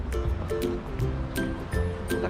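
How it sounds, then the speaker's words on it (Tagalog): Strong ocean waves break and wash along a seaside shore with surfers nearby, a loud, steady rushing broken by sharp crashing bursts. "Lakas ng alon"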